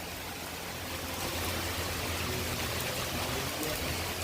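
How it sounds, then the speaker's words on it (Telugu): Heavy rain pours down suddenly in a steady, dense hiss that holds at full strength and grows slightly louder partway through, with no voices. "వర్షం మాత్రం తీవ్రంగా పడతా ఉంది."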